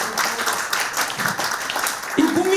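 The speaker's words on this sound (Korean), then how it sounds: "여러분 박수." A crowd at a Korean political rally claps and cheers in a short burst, dense and fairly loud, with voices and shouts mixed into the noise.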